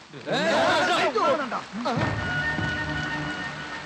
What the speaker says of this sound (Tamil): மழை வேற அதிகமாகுது